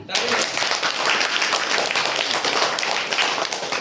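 Schoolchildren in a classroom give a loud round of clapping, dense rapid hand claps from a group close by, continuing steadily for several seconds.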